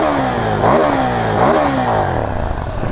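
Stock exhaust of a KTM 790 Duke parallel-twin motorcycle revving hard, loud and close, with rasping throttle blips rising and falling twice over a steady engine drone, no voices.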